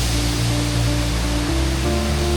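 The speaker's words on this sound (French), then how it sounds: "Ok, premier stop, petite cascade." A small waterfall in a botanical park at Phong Nha, Vietnam, gives a steady, dense rush of falling water, close and continuous, with no voices.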